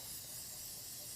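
A short burst of cooking spray hisses into a bean can, a brief airy spray with no voices.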